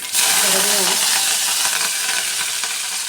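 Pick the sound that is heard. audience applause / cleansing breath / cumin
cumin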